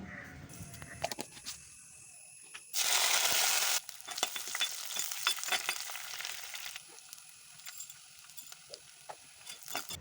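Hot oil sizzles loudly as green chillies are dropped in after fenugreek seeds, a sharp burst of crackling that settles into steady, softer frying with small pops.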